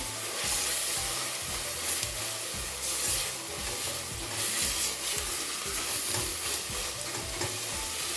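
Tomato paste sautéed in a pan for a dried bean stew, giving a steady hissing sizzle with regular stirring scrapes, close and even in level, no voices.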